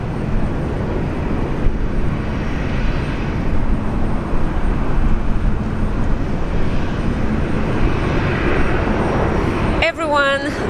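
A Qantas airliner in Retro Roo livery arrives from Cairns at Brisbane International Airport, heard as a loud, continuous rumbling roar of jet engines throughout, with a brief chirping sound near the end.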